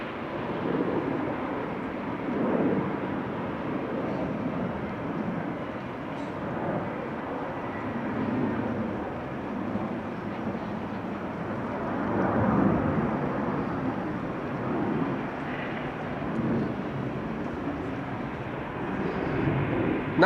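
Business jets taking off from a runway at Amsterdam Schiphol Airport make a distant, rumbling, steady roar that swells and fades in broad waves, with no voices heard.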